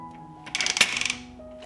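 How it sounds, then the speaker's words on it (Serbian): A quick run of sharp metallic clicks and clacks as a pressure cooker lid is fitted and locked shut, close by, in a quiet room. "Zatvorit ću ekspres lonac"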